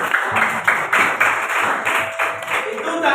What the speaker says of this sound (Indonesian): Oke, tepuk tangan untuk semuanya.